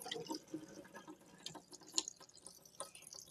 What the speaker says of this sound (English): you're just going to take and squish out some of that dye. And then fill your pan up again.